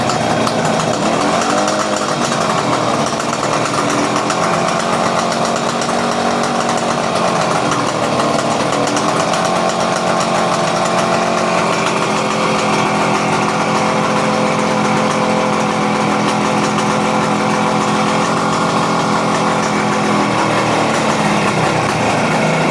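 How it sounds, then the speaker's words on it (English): A Kawasaki KH250 two-stroke motorcycle engine idles close by, running loud and steady for the whole stretch with a slightly uneven, buzzing tone and small wavers in pitch. "Dare I take my hand off the throttle and let it idle?"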